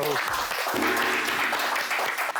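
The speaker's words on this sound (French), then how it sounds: "On l'applaudit très fort." A studio audience on a French television show bursts into loud, dense applause that carries on steadily throughout, close and full, with a voice briefly heard at the start.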